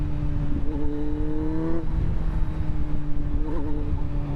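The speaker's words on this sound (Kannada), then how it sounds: "ಎಕ್ಸಾಸ್ಟ್ ಸೌಂಡ್ ಕೇಳಿಸ್ಕೊಳ್ಳಿ ಹೆಂಗಿದೆ ಅಂತ." A 2018 Kawasaki Z900 motorcycle with an aftermarket exhaust holds a loud, close engine drone that climbs in pitch, drops briefly as it shifts, then builds again, with steady road noise underneath.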